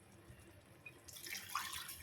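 Water pours and splashes into a cooking pot of simmering pork knuckle, starting after a quiet moment and running steadily with bright, gurgling splashes to the end.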